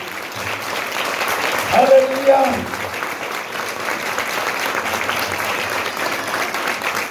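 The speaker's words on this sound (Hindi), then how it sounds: "जोरदार तालियां।" A congregation at a Christmas meeting breaks into loud, steady applause that fills the room, with one voice calling out briefly in the middle over the clapping.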